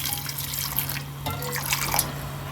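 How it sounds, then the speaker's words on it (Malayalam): Water is poured into a cooking pot holding turmeric, chili powder and salt, a soft steady trickle and splash over a low background hum. "കുറച്ച് വെള്ളം ഒഴിച്ച്"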